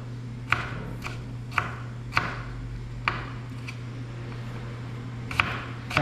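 Sharp knife strokes on a cutting board as food is sliced before frying, about seven or eight distinct chops spaced irregularly over a steady low hum, close and fairly quiet.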